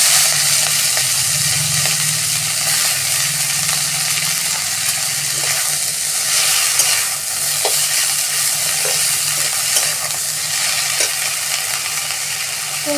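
Spinach with ginger fries steadily in a pan while being stirred, giving a continuous loud sizzle broken by scraping stir strokes throughout.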